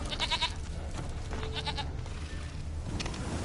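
A goat in The Witcher 3 gives a couple of short, nasal bleats, the first near the start and another around the middle, close by over a low ambient background.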